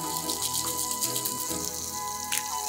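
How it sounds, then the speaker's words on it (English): Tuna steaks sear in a hot pan, giving a steady, close crackling hiss that carries on without a break and with no voices. "We'll start by laying some tuna steaks into a hot pan."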